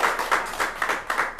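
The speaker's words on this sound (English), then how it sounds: "Give her a big round of applause" A small audience at the Hideout gives a brief burst of applause for a guest performer, heard as a short run of rhythmic, fairly close hand claps.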